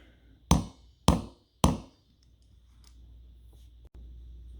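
A pretend hammer strikes a snap-button setting tool three times in a quick, evenly spaced series, sharp close thunks, each ringing out briefly, followed by quiet handling noise.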